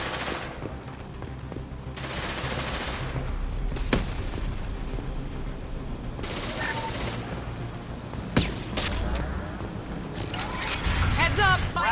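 Gunfire rattles through a firefight in the video game Mass Effect 2, with sharp bursts and impacts over a constant loud battle din, voices shouting beneath.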